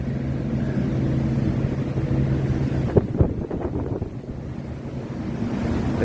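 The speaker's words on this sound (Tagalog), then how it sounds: "Medyo mahangin ngayon guys." Strong wind buffets the microphone on a breezy hilltop, a constant low roar with a few harder gusts and thumps midway, no voices.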